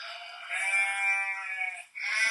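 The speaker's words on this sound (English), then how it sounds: "What kind of sound does the sheep make?" A sheep bleats loudly and close by, one long wavering baa followed after a brief break by the start of another.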